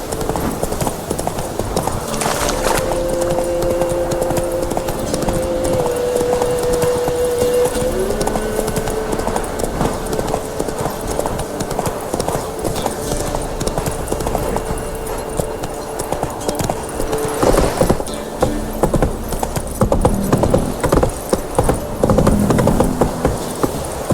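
A horse gallops along in The Witcher 3, with rhythmic hoof clip-clops running steadily throughout, a brief whinny early on, and game ambience beneath.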